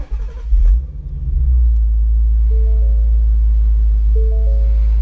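A 2017 Ford Mustang GT California Special convertible with a 6-speed manual fires up by push button: a short cranking burst, then a loud, steady, deep V8 rumble settling into idle close by.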